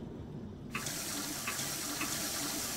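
A sink tap in the video game Prey turns on partway through and runs steadily, a continuous hiss of water with faint periodic clinks beneath it, close and fairly loud.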